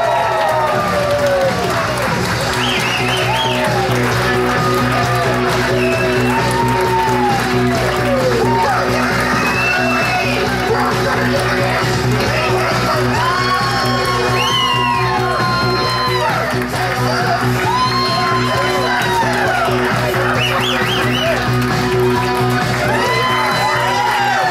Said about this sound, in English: let's stand and get a round of applause for the new bride and groom, Dr. Robert and Rachel Nab